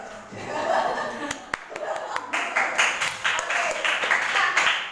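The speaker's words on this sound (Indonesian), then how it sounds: "Aplaus" An audience at a school gathering bursts into clapping, a dense, steady patter of many hands that carries on throughout, mixed with a few chuckles and voices talking underneath.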